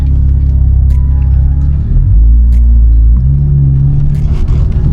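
Dodge car driving along with new luxury floor mats fitted, a loud steady engine and road rumble heard from inside the cabin, with small shifts in engine pitch and no talking.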